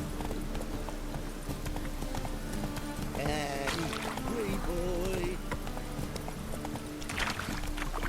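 Horse hooves clip-clop steadily at a trot in The Witcher 3: Wild Hunt, a continuous rhythmic patter under ambient game sound, with a brief whinny partway through.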